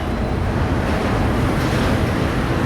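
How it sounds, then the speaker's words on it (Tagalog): Strong wind roars steadily near a fire in Tondo, Manila, buffeting the microphone with a constant, rumbling broadband rush and no voices. "Lakas ng hangin."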